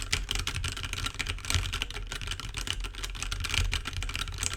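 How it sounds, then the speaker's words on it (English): Continuous rapid typing on a computer keyboard, a dense stream of clicking keystrokes at steady pace, fairly close, with no voices. "we're probably going to pick up a lot more keyboard sounds here with this setup"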